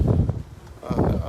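Strong wind buffeting a microphone outdoors while walking along a residential street in Walkden: a deep, muffled rumble that swells and fades over the whole moment, with no clear words.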